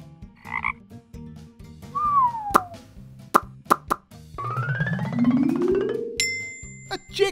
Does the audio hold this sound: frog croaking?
yes